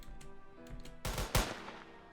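Gunfire in the historical war game Modest Hero: two loud, close bursts of rapid shots, the second sharper, rising out of quieter battle ambience.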